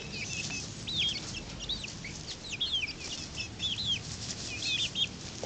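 Chickens taking a dust bath outdoors give soft, high chirps and clucks in scattered short runs over a steady low background hiss, faint and fairly close, with no talking.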